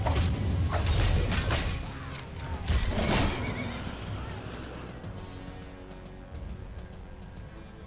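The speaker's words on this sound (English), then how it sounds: "And he attacked my horse. No, my horse." Horse neighing and whinnying in the Skyrim video game, a loud drawn-out call up front with a second burst around three seconds, over dense game noise and clatter that fades toward the end.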